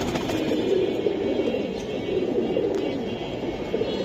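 Pigeons, including pankhi and silver giribaz breeds kept for sale, give a low, continuous murmur of cooing over a faint background hum, with no voices in between.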